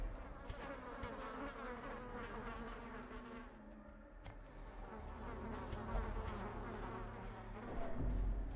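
Continuous insect buzzing from mosquitoes in the video game Darkest Dungeon, a sustained whine over game ambience, with a low rumble swelling toward the end.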